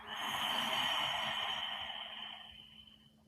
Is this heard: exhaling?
yes